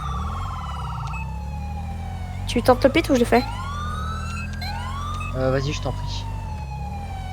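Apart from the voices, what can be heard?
police car sirens in video game GTA V LSPDFR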